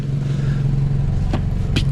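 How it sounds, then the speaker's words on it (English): Inside a car with a loud exhaust, the engine and the AC compressor hum in a steady, loud low drone, broken near the end by two brief clicks or rattles. "because the AC compressor is wicked loud"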